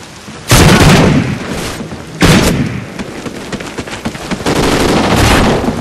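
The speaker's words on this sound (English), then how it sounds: "so many freaking bullets" Gunfire in a video game: loud, dense booming bursts and rumbling blasts, swelling in waves with continuous noisy crackle throughout.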